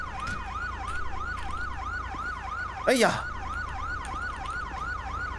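A police car siren from GTA V wails in a steady repeating up-and-down cycle, loud and close throughout, with a brief burst of crash noise near the middle and a voice shouting over it.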